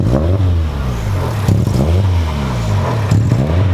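A car engine revs up and drops back twice, then starts a third climb, each surge loud and close, capped at a certain RPM before easing off.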